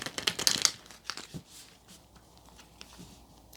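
Oracle cards being shuffled by hand, a few quick papery riffles and slaps early on, then softer faint rustles, close and quiet with no talk.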